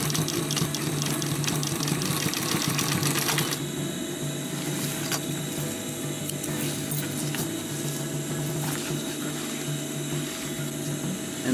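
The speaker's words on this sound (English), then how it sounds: "you're going to want to sew back and forth a few times to strengthen the seam and go back" A sewing machine stitches back and forth along the seam of a climbing chalk bag, giving a steady, fast mechanical whirr with rhythmic ticking that shifts pace partway through, close and continuous with no talking.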